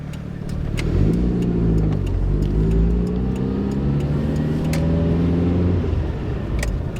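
A Mitsubishi Lancer Evo V with an aftermarket exhaust idles and revs at night, its loud, close engine rumbling steadily with rising and falling pitch as the throttle is blipped.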